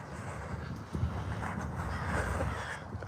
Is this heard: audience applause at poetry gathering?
no